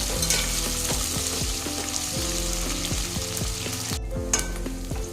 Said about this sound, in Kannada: ಈರುಳ್ಳಿ ಗೋಲ್ಡನ್ ಕಲರ್ ಬರಬೇಕು, ಅಲ್ಲಿ ತನಕ ಫ್ರೈ ಮಾಡ್ಕೋಬೇಕು